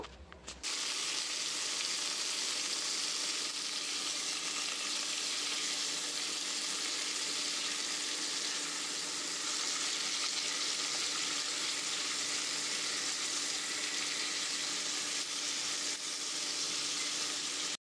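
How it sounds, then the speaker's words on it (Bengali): Whole chicken pieces fry lightly in hot oil in a kadai, giving a continuous, even sizzle and crackle that starts abruptly and holds steady, close and alone. "এই তেলের মধ্যেই কিন্তু আমি আস্ত বড় বড় যে গোটা চিকেন আছে, এই গোটা চিকেনগুলোকে আমি কিন্তু সুন্দর করে একটু ফ্রাই করে নেব"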